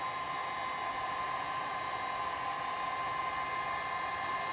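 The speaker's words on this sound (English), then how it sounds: "Heat gun's pretty hot, so it doesn't take long." A heat gun warms plywood edge banding, giving off a steady, loud, whooshing blower roar that holds constant throughout with no pauses and no voices.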